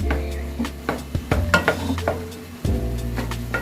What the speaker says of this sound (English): Okay, now stir that in.